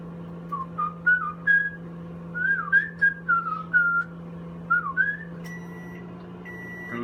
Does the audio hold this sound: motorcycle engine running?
no